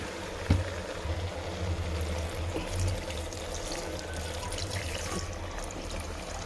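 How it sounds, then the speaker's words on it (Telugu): Water pours steadily into a pressure cooker pot of dal, a soft, continuous splashing trickle, fairly quiet, with no talking. "తగినంత వాటర్ వేసుకొని"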